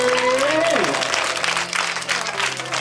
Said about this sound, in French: Est-ce qu'on peut applaudir papa pour te placer?